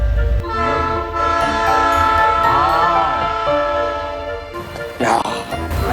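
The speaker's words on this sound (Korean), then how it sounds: "알래스카 낚시하다가 기차 지나가는 걸 볼 수 있어." Out by an Alaskan river, a train rumbles past with a loud, steady roar, and its horn sounds in sustained blasts over the rolling clatter.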